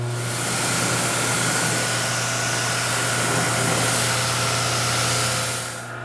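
A pressure washer runs steadily throughout, its water spray hissing loud and close while rinsing down a truck, with a constant motor hum beneath and a brief drop in level near the end.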